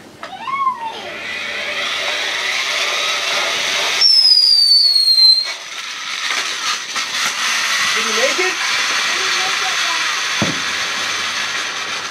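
Backyard Fourth of July fireworks set off under a stunt toy, with whistling, fizzing bursts and crackles close by while people talk and call out over them.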